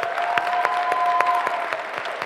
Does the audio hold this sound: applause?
yes